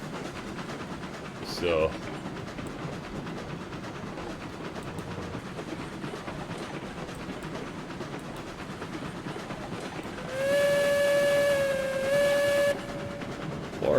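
Steam locomotive hauling a loaded train in RailRoads Online, a steady rumble of running gear broken by a brief whistle toot and then a longer sustained whistle blast; a voice speaks briefly.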